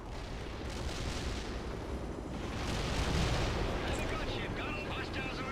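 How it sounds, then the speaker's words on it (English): Heavy gunfire and artillery in the real-time strategy game World in Conflict. Dense, continuous blasts and rumbling explosions roll together, swelling louder midway, with a voice faintly under the din. "My men are under heavy fire."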